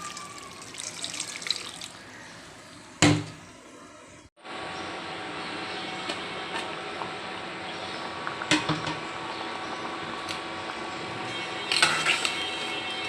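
Water runs steadily into a cooking pot for red lentil dal with bottle gourd, about half a litre poured. It is a continuous hiss, broken by a couple of sharp clatters from the pot.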